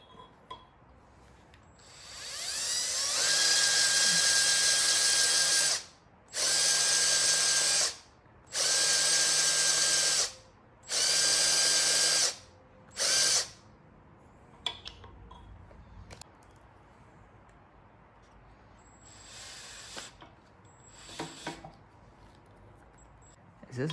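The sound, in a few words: power drill drilling out an engine part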